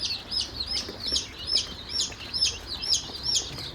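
Many Kadaknath chicks chirping in rapid, overlapping high-pitched peeps, a steady busy chorus close by with no talking.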